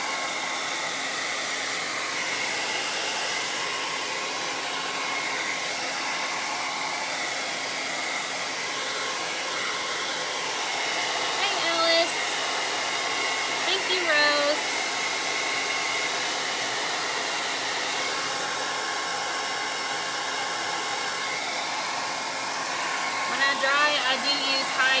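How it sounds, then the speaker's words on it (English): A heat tool on high setting blows continuously to dry paint on a craft door hanger, a steady loud whoosh with a few faint clicks and small shifts in tone. "I do use high heat because I'm impatient and the heat dries out the paint faster"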